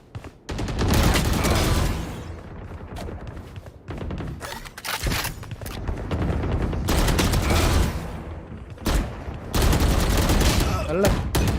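Heavy automatic gunfire from the video game Valorant comes in long loud bursts with short pauses between them, close and harsh, and a player talks over some of it.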